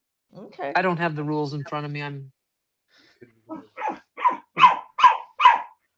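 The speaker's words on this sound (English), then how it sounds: "sorry about the barking" A dog barks six times in a steady, rising series right after a person finishes speaking, the barks growing louder and close by.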